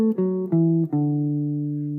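Guitar notes from a major pentatonic scale ring out clearly and close, four plucked tones stepping downward before the last one sustains and slowly fades, with no talking.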